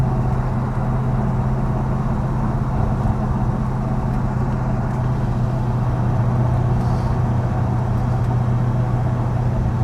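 An Ultima RS supercar driven for the first time, with a steady, loud engine drone and road noise holding constant throughout, no voices over it.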